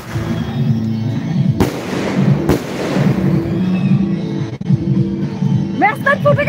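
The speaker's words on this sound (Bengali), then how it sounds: "ম্যাচ লাইট ফুটে ঠাস করে ছুটে গেছে" A match-light firecracker bursts at a New Year celebration with two loud sharp cracks amid continuous crackling fireworks, while people talk nearby.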